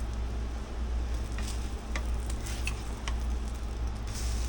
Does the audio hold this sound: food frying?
yes